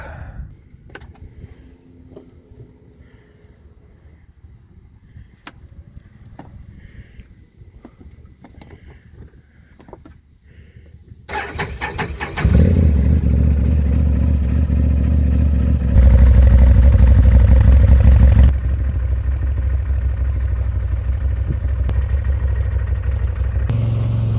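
A side-by-side UTV engine is cranked with a jumper box, catches and fires up, then runs loud and revs in surges after quiet clattering and handling noises.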